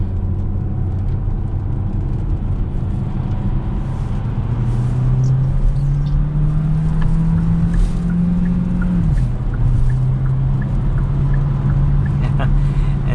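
A 2022 Hyundai Tucson hybrid SUV accelerates on a test drive, its steady engine and road drone rising in pitch, dipping briefly at a shift, then holding on, loud and continuous from inside the cabin.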